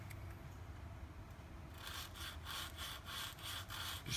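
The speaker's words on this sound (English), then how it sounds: "So standard socket with some 220 wrapped around it. Just run it over it." An aluminum valve cover is rubbed with 220 grit sandpaper wrapped around a socket. Quiet, steady strokes come in a regular back-and-forth rhythm close by, after a softer start.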